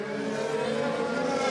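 Onboard sound of a 2016 Formula 1 car accelerating hard in second gear, a loud, steady, rising engine howl with rich harmonics throughout.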